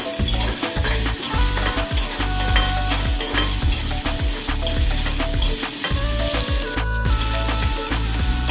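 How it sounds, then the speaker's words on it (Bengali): Ginger and garlic fry in hot oil for a bitter gourd curry, a loud steady sizzle with repeated stirring scrapes and clinks of a spatula against the pan throughout. "আদা রসুনটা এখন আমি একটু তেলে ভেজে নিব"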